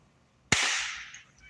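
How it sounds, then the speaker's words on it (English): A single sharp firecracker pop goes off outside, sudden and bright, then leaves a short decaying tail over a quiet background. "are they popping firecrackers?"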